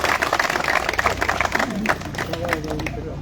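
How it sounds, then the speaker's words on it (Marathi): Audience at a formal gathering in Satara claps to welcome an honoured royal guest, a busy, close burst of many hands that is strongest at first and then thins, with voices mixed in. "सर्वप्रथम महाराज साहेबांचं आपण टाळ्या वाजवून सहर्ष स्वागत करूया"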